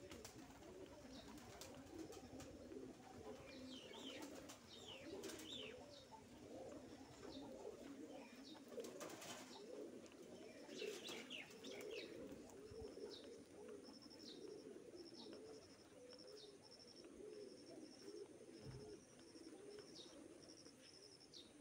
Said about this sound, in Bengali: কত কবুতর।